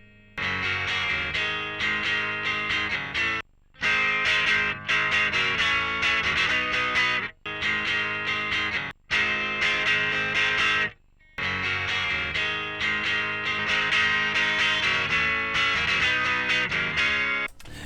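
A distorted electric guitar plays loud, thick chords with a warm tone, strumming in bursts separated by several short pauses.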